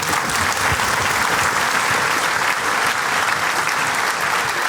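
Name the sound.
studio audience applause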